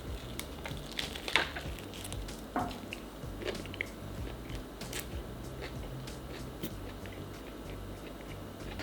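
Crunchy leftover restaurant food, including a side salad, being chewed close up, with soft bites and squishy crunches repeating irregularly over a faint background.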